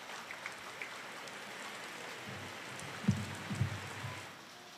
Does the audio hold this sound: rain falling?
yes